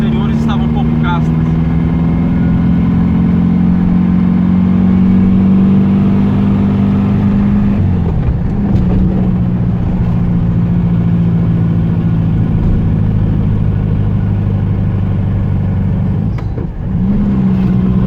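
A 1986 Volkswagen Fusca engine idling smoothly after maintenance with a new distributor and new spark plugs, a loud, steady low drone that dips briefly twice.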